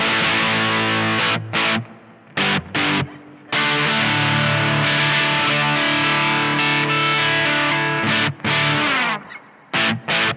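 Sustained electric guitar chords through a Supro Drive with tape delay, drenched in reverb and delay, notes ringing and trailing off between strums, with no one speaking.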